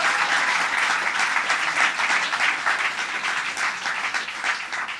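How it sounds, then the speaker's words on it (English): An audience at a teaching excellence award ceremony gives a principal a sustained round of applause, dense and steady clapping filling the room for several seconds without pause. "let's give your principal, Donna Finn, a great round of applause for what she's doing"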